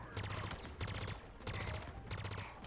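Rapid bursts of heavy weapon fire and explosive blasts in a Halo Infinite match, including rocket launchers, repeating in loud waves about every half second to a second with no pause between.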